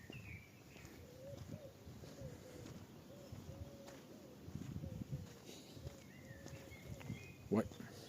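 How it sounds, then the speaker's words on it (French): Small birds sing outdoors with faint, repeated cooing and chirping phrases in the distance, carried under a low background of movement and handling noise, with a sharp knock near the end. "Je sais pas si vous entendez les petits oiseaux chanter."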